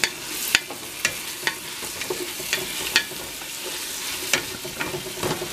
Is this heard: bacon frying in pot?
yes